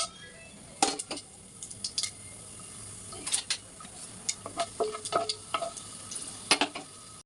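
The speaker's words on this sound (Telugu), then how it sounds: "ఆయిల్ కాగిందండి ఇప్పుడు మనం వేసుకుందాము దినుసులు కావాల్సిన ఇంగ్రీడియంట్స్ వేసుకుందామండి" Whole spices and masala frying in hot oil with a spoon of ghee and a pinch of salt for a chicken fry piece biryani, a steady low sizzle with scattered crisp pops and clinks of a spoon stirring in the pan.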